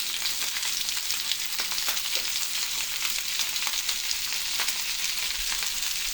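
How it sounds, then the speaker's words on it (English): Chuck eye steaks seasoned with chili powder and garlic powder sizzle in a smoking hot skillet, giving a steady, dense frying hiss with scattered pops and crackles, close and continuous throughout, with no talking. "we got our smoking hot skillet here. We're going to lay these puppies in there"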